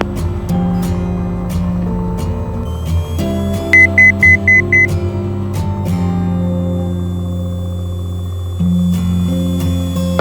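A Cessna 182 engine runs steadily at run-up power during a magneto check, a loud droning hum with shifting tones, a short burst of evenly spaced beeps midway and a slight change in pitch near the end.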